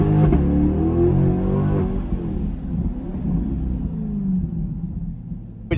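A C8 Corvette with an AWE Track Edition exhaust pulls away from close by, its loud deep exhaust rumble holding briefly and then fading steadily into the distance.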